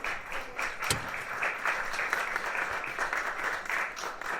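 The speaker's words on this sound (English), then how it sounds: "give a round of applause for Rebecca being with us tonight" An audience at an evening event at the House of Lords gives a round of applause, steady, even clapping that carries on throughout at a moderate distance.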